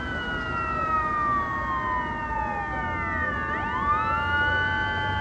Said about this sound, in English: Ambulance coming around the corner.